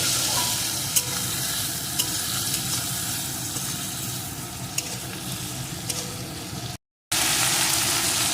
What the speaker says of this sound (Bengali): এখন ভালো করে বেশ কিছুক্ষণ এইভাবে নাড়িয়ে নাড়িয়ে